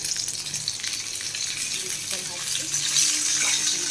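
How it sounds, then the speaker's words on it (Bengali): Fish fries in a pan, a close continuous sizzle and crackle with occasional utensil clinks, growing slightly louder toward the end, with no speech. "এখন মাছ ভাজা হচ্ছে"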